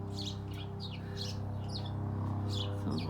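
Small birds chirp outdoors in short bright bursts, about six brief tweets spaced across the moment, faint and somewhat distant over a steady low hum.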